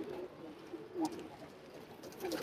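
Soft, low pigeon coos from a single pigeon on a rooftop, a couple of brief calls, faint against a quiet background hiss.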